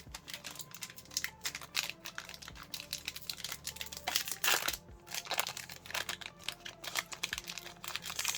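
A Magic: The Gathering collector booster sample wrapper being opened up close, with continuous crinkling and crackling of the foil pack and sharp tearing bursts over several seconds, no talking.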